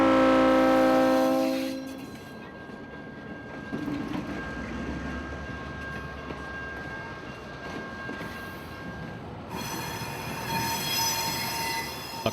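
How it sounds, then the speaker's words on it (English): A CSX Jeep 38-2 switcher locomotive in Yellow Nose 2 paint works cars on a cold storage company spur near Lakeland, with low rumbling rail noise, a sustained wheel squeal across the middle and louder engine sound at start and end. "job Y125 is switching a cold storage company with a Jeep 38-2, still in CSX's classic Yellow Nose 2 paint."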